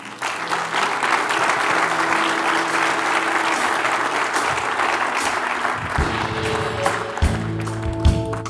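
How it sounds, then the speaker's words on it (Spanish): A church congregation gives loud, sustained applause during a worship service, with sustained musical tones entering beneath the clapping in the latter part. "Denle un aplauso al Señor"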